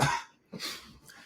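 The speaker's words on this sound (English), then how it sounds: "Sorry, I just need to cough for 1 second." A person coughs twice in quick succession, a sharp close burst followed by a second rougher one trailing off, sounding like someone with the flu.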